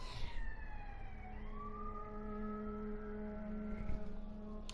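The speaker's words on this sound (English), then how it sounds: "Oh no, that's a siren." A wailing siren glides up and down over steady street traffic rumble, fairly close and prominent throughout.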